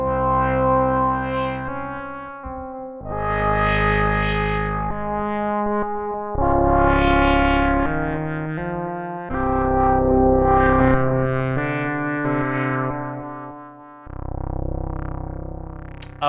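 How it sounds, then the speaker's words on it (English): Sustained synthesizer chords with a distorted, chorused tone, each note trailing into echoing repeats that spread and fade; loud and continuous, no voices. "add a little bit of stereo delay"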